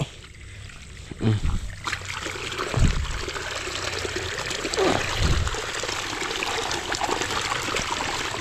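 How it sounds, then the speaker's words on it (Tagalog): Water poured and trickling onto a kangkong garden bed, a steady close splashing dribble with a few louder splashes, running throughout with no clear talking. "Atin pong papaigahan ng tubig."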